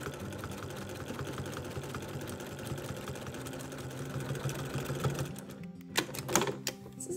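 A sewing machine with a walking foot quilts straight lines, its motor running in a steady mechanical whir for several seconds before stopping and giving way to a few separate knocks and handling sounds.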